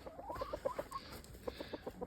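Chickens clucking at close range on a farm, a steady run of short repeated clucks with brief pauses, fairly loud and with no talk over them.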